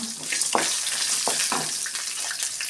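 Cashews and black pepper fry in hot oil with a dense, bright crackle and hiss, broken by a few soft spoon stirs; close and fairly loud, with no voices.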